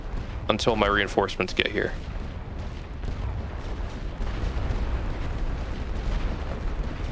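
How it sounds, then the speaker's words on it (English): Artillery shells pound an enemy trench in The Great War: Western Front, a World War I strategy game. Someone speaks briefly at the start, then a continuous low rumble of distant bombardment carries on. "I'm just going to start pounding at that trench with artillery"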